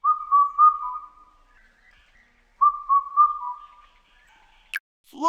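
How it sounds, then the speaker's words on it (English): An Indian cuckoo calls with two drawn-out, clear whistled phrases separated by a short pause, carrying alone against a quiet background and ending in a brief sharp click. "Indian cuckoo,"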